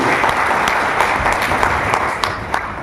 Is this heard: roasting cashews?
no